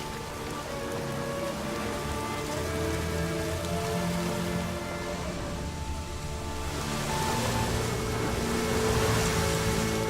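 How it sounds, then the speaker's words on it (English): Continuous heavy rain in the video game The Witcher 3 hisses and patters on surfaces, a dense, steady wash of sound with low tones humming underneath. "Looks like rain."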